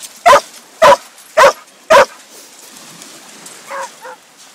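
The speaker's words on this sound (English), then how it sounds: "She's a good puppy." A puppy at Island View Beach gives four sharp, evenly spaced barks close by, followed by a couple of softer yips or whimpers.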